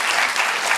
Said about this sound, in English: first a round of applause for her